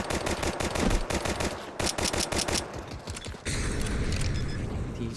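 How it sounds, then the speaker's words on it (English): Video game gunfire on the Anubis map comes in rapid automatic bursts of sharp cracks, loud and close, before fading into a steadier background noise. "He's shooting a whole bunch at nothing."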